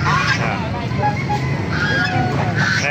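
Geese and bibi, goose-duck hybrids, at a Baliuag market honk loudly and close in repeated overlapping calls.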